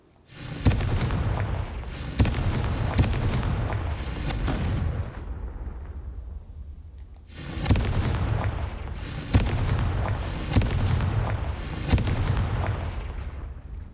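Confringo explosive spell blasts in Hogwarts Legacy: repeated loud booming detonations in two clusters, each blast with a sharp crack followed by a rumbling tail, separated by a quieter lull.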